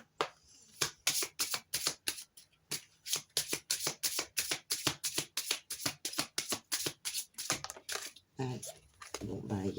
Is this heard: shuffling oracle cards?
yes